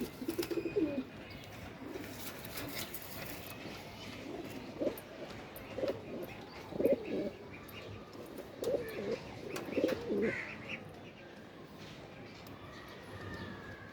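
Saharanpuri tupidar pigeons released indoors at a high-flyer pigeon farm give soft, intermittent coos and short bursts throughout, faint and nearby, with a voice talking quietly at times.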